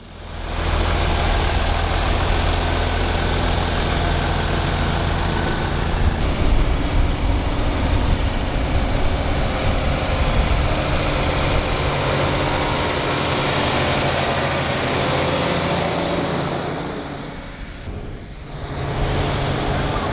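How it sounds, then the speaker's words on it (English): A big tractor engine disking a pulling track drones steadily at close range, a low rumbling idle with a brief dip near the end before it picks back up. "Got that big tractor over there doing the disking."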